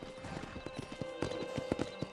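Hooves of a painted horse clip-clop in Red Dead Redemption, a quick, steady run of hoofbeats at moderate volume over a soft background, with no voices.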